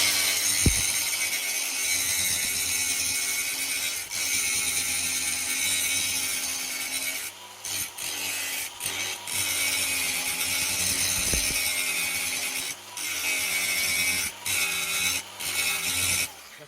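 Power tool grinding steadily through a weld bead on a drive shaft, a continuous loud cutting noise with brief pauses and restarts in the second half.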